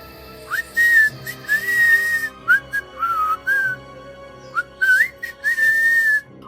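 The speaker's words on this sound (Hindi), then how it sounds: "फिल्मी गाने की एक सीटी की धुन उसके मुंह से फूट पड़ी" A person whistles a film song tune in short melodic phrases, clear and close, with brief pauses between phrases and no talking.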